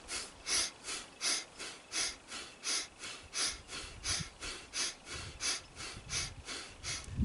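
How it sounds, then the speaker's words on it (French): Rapid, forceful rhythmic breathing for an immune-boosting breath exercise, about sixteen sharp breaths in a steady pulse, close and alone without speech. "Avec une respiration dynamique."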